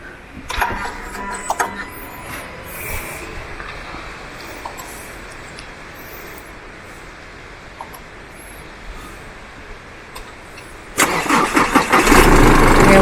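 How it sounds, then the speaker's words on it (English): A car engine cranks repeatedly without catching, then turns over and runs loudly near the end, at a beach campsite on the Dampier Peninsula where the vehicle was having starting trouble. "So he's just tried to start the car by the sounds of that"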